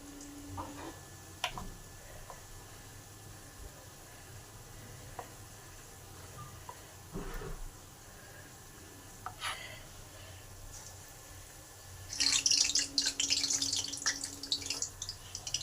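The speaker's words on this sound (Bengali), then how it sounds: "কোট করে গরম তেলে ছেড়ে দিলাম" Batter-coated jackfruit chops hit hot oil in a home kitchen. Quiet background gives way to a sudden burst of loud, hissing sizzle near the end, close by and continuing.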